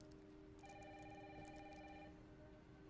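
A telephone in a video game reveal rings with a bright electronic trill lasting about a second and a half, over a steady rainy background hiss, with no voices.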